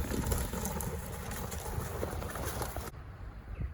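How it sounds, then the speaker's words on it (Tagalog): Pigeons gather in a flock outdoors, soft cooing and bird calls mixing over a steady wash of ambient noise, with the birds close and continuous until the sound drops away near the end. "Diyan lang naman kami so may mga daming bird."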